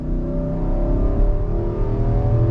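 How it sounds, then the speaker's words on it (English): A 2022 Infiniti QX80's naturally aspirated V8 pulling under throttle, a loud, deep, steady engine drone heard from inside the cabin, rising smoothly in pitch. "I just want to show you the flexibility of this naturally aspirated V8 in this Infiniti."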